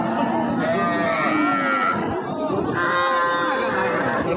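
Loud, drawn-out cattle moos from heifer calves close by, one after another, over a busy crowd chattering at a livestock market.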